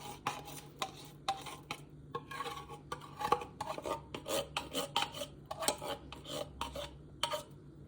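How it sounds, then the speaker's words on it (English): A spoon scrapes thick condensed milk out of a can into a pot for truffles, repeated rasping strokes in an uneven rhythm, close and fairly loud, with no talking. "And you're gonna empty the entire can into the pot. You may need the help of a spoon here."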